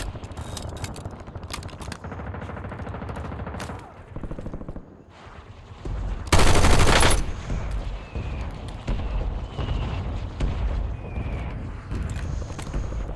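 Gunfire from a first-person shooter game, a dense loud burst around the middle over a steady bed of game ambience and scattered shots, with a player talking at times.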